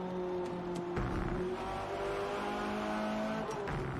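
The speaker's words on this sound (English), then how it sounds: "Every tire squeal, every engine, lap after lap." Race car engines drone and shift steadily in the video game Forza Motorsport, with a faint tire squeal under the continuous mid-distance roar and no voices present.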